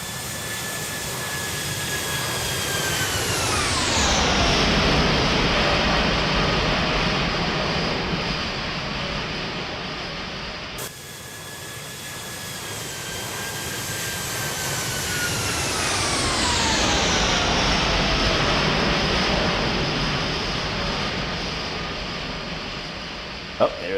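Airbus A320neo jet engines in an X-Plane 12 flyby, two long passes whose roar swells, then drops in pitch as the aircraft goes by, loud and steady.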